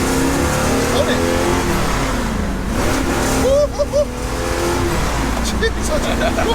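A 6.6-litre 1969 Pontiac Trans Am Ram Air III V8 roars hard through a second-gear pull, engine note climbing loud and raw from inside the car, with occupants talking over it.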